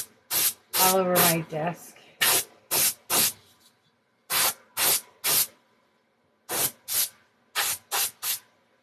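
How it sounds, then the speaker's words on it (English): Short bursts of a compressed air can spraying off a desk surface, a dozen or so sharp hissing blasts in irregular clusters with gaps between, close and loud, with a brief stretch of talk near the start. "I am going to take a can of compressed air"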